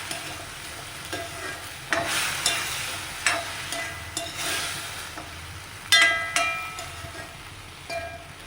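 Green beans and raw banana cook for a Kerala mezhukkupuratti, with a faint background simmer and a few distinct bursts of stirring and scraping in the pan, and long quieter gaps between them.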